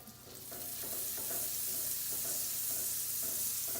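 Olive oil and a pat of butter sizzle in a pan, a loud, close, steady frying hiss with light crackle that swells slightly as it goes, with no talking.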